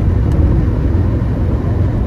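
Steady low road rumble and engine drone from inside a Land Rover Defender at about 40-50 mph, constant and loud with no voices.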